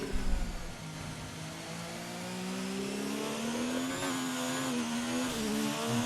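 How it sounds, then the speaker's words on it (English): A race car engine in a racing video game replay of a Japanese Grand Prix screams at high revs, its steady whine sliding upward as the gearbox over-revs, loud and continuous with no talk. "you can see that gearbox is over revving"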